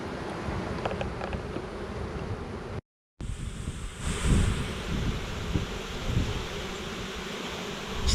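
Honey bees buzz in an open hive while the brood nest is aired out in February, a steady close droning hum that drops out for a moment and then resumes alone.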